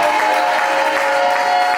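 A church congregation at a special Sunday service claps to acclaim the Lord, a steady wash of crowd applause with a sustained tone ringing underneath.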